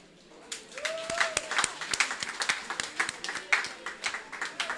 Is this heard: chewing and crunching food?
no